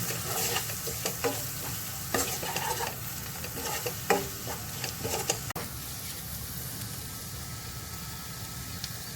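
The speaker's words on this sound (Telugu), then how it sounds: "బాగా కలుపుకుందాం." Fried semiya (vermicelli) seasoned with fried rice masala is stirred and tossed in a hot pan, a steady close sizzle broken by repeated scraping spatula strokes, with no talking.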